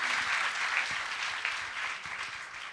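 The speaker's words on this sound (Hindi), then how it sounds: "ताली बजाए शिवा के लिए।" An audience at a spiritual discourse breaks into applause, brisk continuous clapping from many hands filling the room, close and fairly loud.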